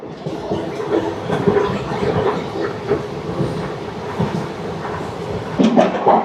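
The 17479 Puri Tirupati Express rolls along with a steady rumble and rhythmic clickety-clack from the wheels, heard from on board and close, with no talk.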